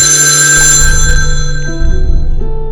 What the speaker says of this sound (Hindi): एक सुबह अनुज के घर उसकी नानी का कॉल आया।